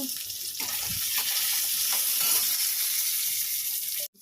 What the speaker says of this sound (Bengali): এদিকে দেখো চায়ের জল বসিয়ে দিয়েছি চায়ের জল ফুটছে